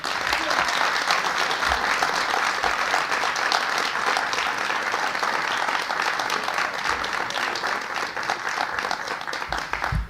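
An audience at the close of a talk series applauds, dense sustained clapping from many hands filling the room evenly throughout, steady and fairly loud.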